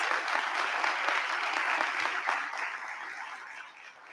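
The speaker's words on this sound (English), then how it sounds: "Let's give ourselves again, all of these partners, a round of applause for these steps." A crowd at a community gathering gives a round of applause, a steady wash of many hands clapping that slowly tapers off, with no speech over it.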